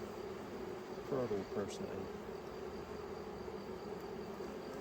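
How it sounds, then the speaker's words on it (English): Honey bees buzzing inside a hive box during a colony inspection, a steady close drone with a brief louder flurry, under a few spoken words. "Which I'm actually surprised to have as many bees still in the box."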